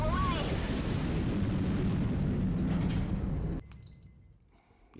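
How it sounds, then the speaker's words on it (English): A KH-15 missile launch and strike in Highfleet, heard as a long roaring, rushing blast that holds for several seconds and then cuts off abruptly, leaving quieter background. "We'll just launch that last KH-15 and just completely clear the city out."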